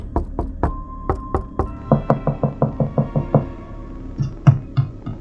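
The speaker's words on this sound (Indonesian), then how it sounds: "Tiba-tiba terdengar suara ketukan pintu yang begitu keras dan berkali-kali." Loud, forceful knocking on a door, a rapid series of hard raps that pause, then resume in a steady rhythm before a few final heavy blows, close and without any voices.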